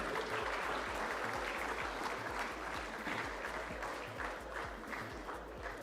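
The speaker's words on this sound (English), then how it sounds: "Can we have a huge round of applause for this last session?" A crowd applauds steadily for several seconds, a dense continuous patter of clapping heard from a moderate distance.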